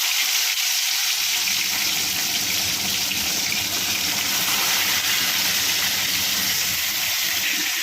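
Shrimp frying in hot oil in a pan, a loud, steady hiss and crackle that begins abruptly and continues evenly throughout.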